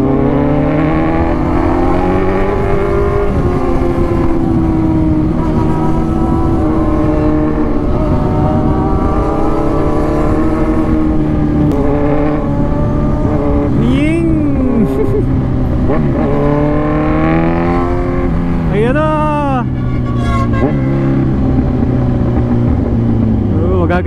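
Kawasaki Z1000 motorcycles revving and accelerating loudly on a road ride, with continuous engine drone and rising pitch sweeps as throttles open, a rider talking over the noise.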